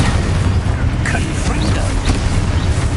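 A loud, dense blast from an Expulso spell in Hogwarts Legacy, a continuous booming roar of noise filling the whole short stretch.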